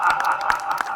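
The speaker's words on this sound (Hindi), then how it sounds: "तालियों का साथ रखिए" Applause from a gathered audience at a rehearsal of the Ravan role in a stage play, a steady patter of clapping with a few louder claps standing out, no voices.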